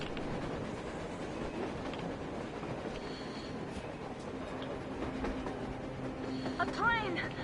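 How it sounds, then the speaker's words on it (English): Train running in the shooter Metro Exodus on the surface: a steady broadband rumble with faint clattering, building slightly near the end with a brief squealing, voices talking over it. "A train! A damn train on the surface!"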